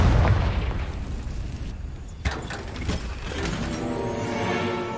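A Confringo blasting spell in Hogwarts Legacy erupts in a loud booming explosion with a rumbling tail, followed by a few sharper pops and crackling debris as the din fades and swells again.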